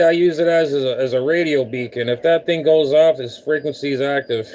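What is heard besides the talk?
No everyday noise stands out behind the speech.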